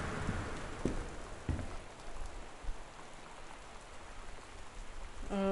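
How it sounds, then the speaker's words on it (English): Steady rain falls in the video game Gone Home, a soft, even patter with occasional faint knocks, continuing quietly and alone. "Oh boy. I can hear the rain."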